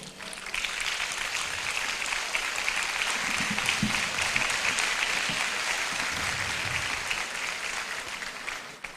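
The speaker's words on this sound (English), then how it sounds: "may you rise so that we give you a round of applause" A large crowd applauds the Court of Appeal justices at a Supreme Court anniversary event in a palace, sustained dense clapping lasting about eight seconds at an even level before stopping.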